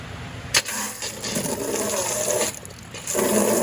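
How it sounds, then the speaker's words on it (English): Water pours and splashes into a bucket at close range, a steady rushing fill in a greenhouse setting with brief knocks and a louder surge near the end; no one speaks. "I'm filling this bucket up with a little water"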